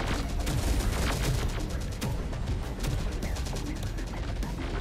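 Dense, continuous gunfire from a battle in the real-time strategy game Terminator Dark Fate: Defiance, with overlapping rapid shots and explosions forming a steady loud wall of combat noise throughout.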